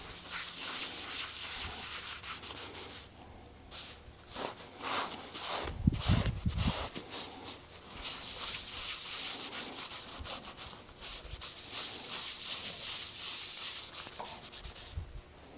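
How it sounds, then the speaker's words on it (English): Sandpaper works back and forth over a wooden bread board in a steady, close run of rough rubbing strokes, with a brief pause and a few knocks partway through before the sanding starts again. "The last few minutes I've been sanding it."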